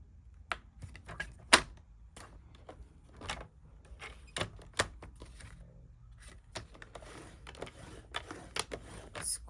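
Paper being scored for a handmade Christmas card: a series of sharp clicks and taps, some scraping strokes, close and fairly quiet, with no talk.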